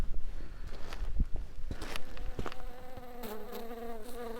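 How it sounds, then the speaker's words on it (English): Bees buzz around beehives on a hike near Saint Catherine in Sinai, Egypt, close droning hums rising and falling as insects fly past, with light rustles and footsteps and no talking. "And there are bees."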